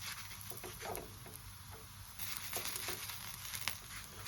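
Paratha fries in a mix of oil and ghee, giving a soft, steady sizzle with light crackling pops, fairly quiet and without talk.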